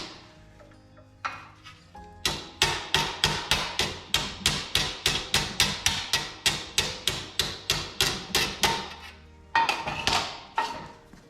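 Steady hammer taps on the sheet-metal edge of a custom-fabricated hood filler, around twenty sharp metallic strikes in an even rhythm, close and loud, with a short burst of quicker taps near the end.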